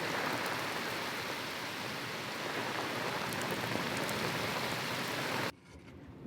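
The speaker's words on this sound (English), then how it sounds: "the rain's letting up a little bit." Heavy storm rain pours steadily onto a sailboat deck, a dense, loud hiss with scattered drop impacts that cuts off abruptly near the end, leaving a quieter background.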